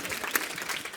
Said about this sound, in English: Clapping is good.